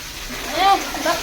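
Water splashes briefly as a small child sits bathing, with a soft swish and slosh close by and a voice speaking over it.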